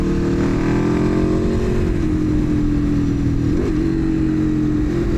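An Aprilia RSV4 Factory sport motorcycle riding on Arizona roads, its engine droning loud and close at a steady high pitch with a slight dip and rise in revs, wind rushing throughout.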